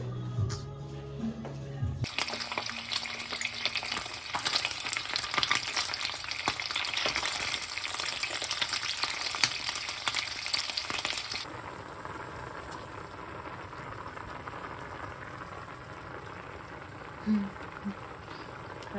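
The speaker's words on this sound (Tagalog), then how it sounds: "At magpiprito ako ng tilapia." Tilapia fish fries in a pan at home with a loud, steady sizzle and crackle that is harsh at first, then eases to a softer, continuous frying hiss.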